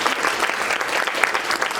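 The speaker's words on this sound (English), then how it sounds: "Let's give them a round of applause." Audience applause at a women's philanthropy celebration meeting, brisk dense clapping from a room of people, close and even for a couple of seconds with no talking.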